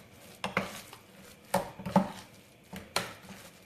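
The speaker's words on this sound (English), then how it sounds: "so let's give this a stir" Veggie sausage mixture with sun-dried tomatoes being stirred in a bowl, giving several distinct scraping clanks of utensil against dish in an irregular rhythm, close and fairly quiet, with no talking.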